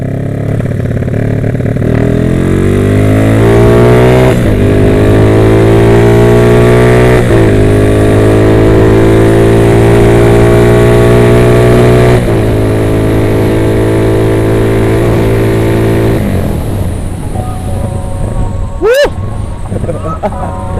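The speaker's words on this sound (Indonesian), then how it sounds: "Emang niatnya mau manasi mesin." A Honda Tiger motorcycle engine warming up: a steady, loud, close idle with rising and falling revs in several swells over about twenty seconds, ending with a brief sharp clank.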